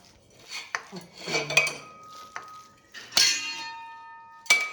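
Gram flour batter with turmeric and salt is stirred in a metal pot, giving a few separate clinks and scrapes of the spoon against the vessel, close and fairly clear, with short pauses and no voices.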